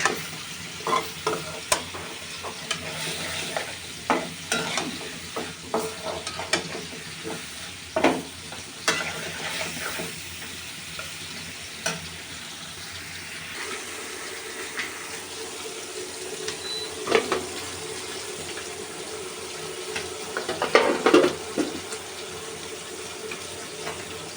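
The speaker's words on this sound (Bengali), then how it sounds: "মশলার ভিতরে চিম আলু ভেজে নেব কষিয়ে নেবো" Flat beans and potatoes fry in spice paste in a home kitchen, a soft steady sizzle with intermittent scraping and clattering of a spoon, close but fairly quiet, with a brief splash of water near the end.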